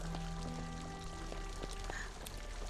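Gentle pouring water in Disney Dreamlight Valley, a steady soft flow with faint tonal game sounds layered over it, quiet throughout.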